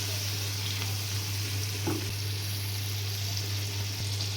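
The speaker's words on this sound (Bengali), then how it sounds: "চিংড়ি মাছটা ভালো করে একটু ভাজবো তেলের সাথে।" Shrimp fry in oil with a soft, continuous sizzle at low level, alongside a steady low hum and a couple of faint clicks, no voices.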